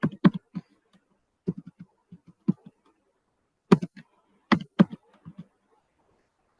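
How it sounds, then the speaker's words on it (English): A computer keyboard is typed on in short bursts of crisp, close clicks, with brief pauses between clusters of keystrokes and quiet gaps in a silent room. "sorry for my keyboard"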